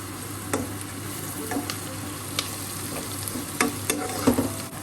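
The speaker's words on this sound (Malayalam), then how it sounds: "അതിൻ്റെ പച്ചമണം മാറുന്നത് വരെ ഒന്ന് വഴറ്റാം" Onion sautés in a pan with turmeric and chili powder, giving a steady, moderate sizzle. Scattered spatula scrapes and light taps come close up, and there is no talking.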